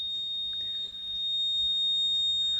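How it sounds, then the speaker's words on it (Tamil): A homemade water tank overflow alarm sounds as the water reaches its set level, emitting a continuous, thin high-pitched electronic tone that holds steady throughout at a moderate volume. "இப்போ பாருங்கள் அந்த அளவு வந்த உடனே இப்போ அலாரம் அடிக்க ஆரம்பிச்சிடுச்சு"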